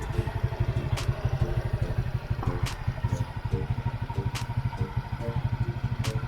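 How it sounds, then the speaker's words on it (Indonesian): A 2024 Kawasaki Athlete motorcycle engine idles smoothly and steadily, a low even putter with faint clatter, running alone without any talk. "Suara mesinnya pun bisa dibilang dia benar-benar smooth banget ya"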